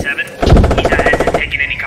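Tank gunners fire their weapons from an M1 Abrams in the video game Squad, with loud rapid rhythmic bursts of gunfire and thuds repeating close by for about two seconds.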